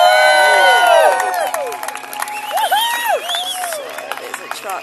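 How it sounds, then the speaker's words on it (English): Outdoor crowd at a Freedom Convoy rally in Canberra cheering and whooping as a truck passes, with raised voices, scattered shouts and some clapping, loud at first and then easing into a busy mix. "Give him a cheer."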